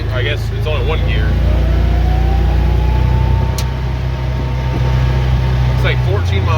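A 2021 John Deere HPX615E Gator utility vehicle rolls in reverse, its engine a steady low drone with a faint whine rising and settling, while a voice talks over it.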